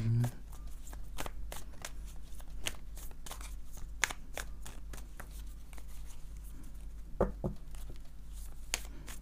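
A deck of tarot-style cards is cut and shuffled by hand, giving a rapid series of crisp riffling snaps and flicks, with a low hum underneath and a brief voice near the end.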